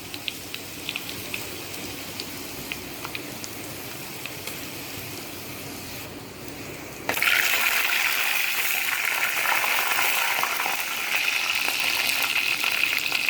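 Spices are tipped into hot oil for tempering a Dindigul Thalappakatti biryani. After a few seconds of gentle bubbling, a loud, sudden burst of sizzling and crackling comes in close and keeps going steadily.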